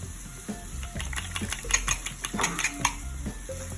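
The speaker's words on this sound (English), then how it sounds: "So I'm gonna go back to beating my eggs here" Eggs mixed with a little cheese are beaten briskly in a bowl for a fluffy omelette, giving quick repeated clinks and taps of a utensil against the bowl, moderately close, with no talking.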